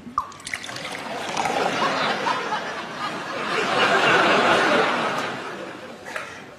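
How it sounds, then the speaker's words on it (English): Water runs into a bathroom sink as it fills, a steady close rushing trickle that swells and fades, with faint laughter from a theatre audience in the background. "Can you hear Noddy filling the sink with water?"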